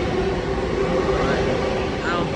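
An express train rushes through Mineola station, a steady, loud rumble with a sustained tonal whine filling the whole span.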